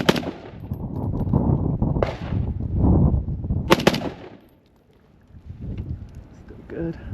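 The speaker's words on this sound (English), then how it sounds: "The follow-up shots are pretty good too." Sharp gunshots from a SCAR Heavy rifle crack out at about 0, 2, and 3.7 seconds, the last a quick double, each followed by rumbling echo outdoors, with a lull and faint background noise after.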